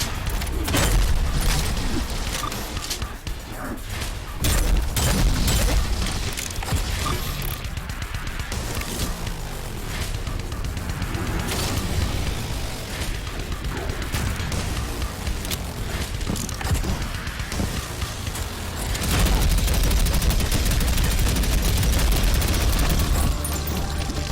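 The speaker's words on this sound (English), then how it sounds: "quad shotguns aren't exactly new, it's just nice to see it implemented" Quad shotgun blasts in the video game Prodeus roar in dense, repeated volleys, loud and booming across the whole stretch with brief lulls between bursts of fire.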